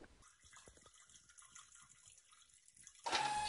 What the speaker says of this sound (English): Stop peeing on me.